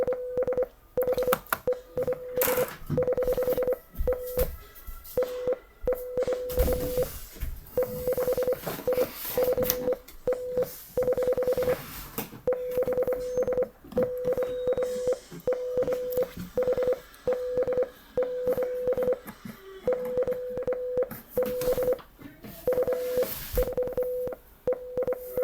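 A single-pitch electronic tone beeps in short and long pulses, encoding a game's release date as Morse code. The rhythm runs unevenly for about 25 seconds over a crackly, noisy background.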